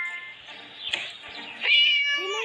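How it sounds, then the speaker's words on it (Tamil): A cat meows repeatedly and close by indoors, with a louder, drawn-out rising call near the end. "Naughty cat again."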